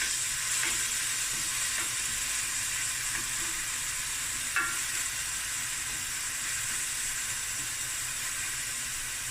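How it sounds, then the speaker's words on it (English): A lentil and potato curry base with garlic frying in a pan, a steady, even sizzling hiss that runs throughout with a few faint stirring taps. "So this is just going to fry away for about 10 to 15 minutes."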